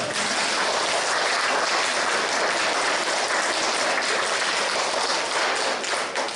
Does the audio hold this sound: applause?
yes